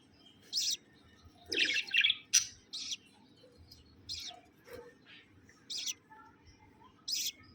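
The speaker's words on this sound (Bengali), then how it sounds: "মা পাখিটা যখন বাচ্চাটাকে খাওয়ায় তখন এভাবে বাচ্চাটাকে উপর করে ফালায়, তারপরে খাওয়ায়।" Shrill baby birds chirp in short, irregular bursts while being fed by their mother, some clustered close together, over a quiet background.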